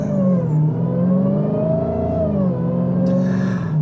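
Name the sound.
2021 Dodge Charger Hellcat Redeye Widebody accelerating, wheels spinning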